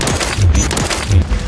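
Two heavy booming gunshots about three-quarters of a second apart from an LMG built as a Barrett-style sniper rifle with a Barrett muzzle, fired in a video game, loud and close over a steady game-noise bed.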